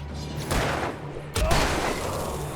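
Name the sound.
gunfire in the video game Alan Wake Remastered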